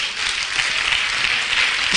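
Dense, steady applause from a church congregation during a service, many hands clapping at once for the full stretch.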